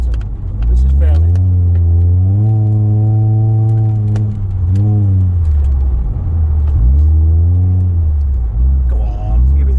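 A Honda Prelude engine drones loud and close as it accelerates, its pitch holding steady, then dipping and climbing again through gear changes, with no talk over it.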